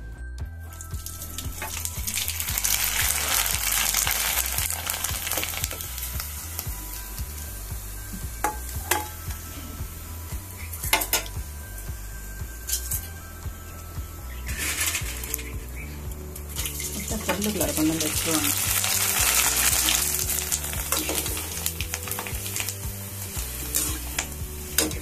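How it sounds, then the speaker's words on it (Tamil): Ribbon vathal crisps made from ration rice deep-frying in hot oil: a steady, close sizzling and bubbling that swells and fades, with occasional stirring clinks and a louder crackle toward the end. "இப்போ நம்ம பொரிச்சு எடுத்து பார்க்கலாம்."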